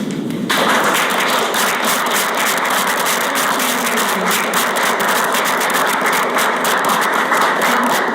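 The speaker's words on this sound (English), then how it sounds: "please join me in giving our good friends a very warm round of applause" Sustained applause from the audience at a foreign ministry ceremony presenting a special diplomatic service medal, starting half a second in and holding loud and steady to the end.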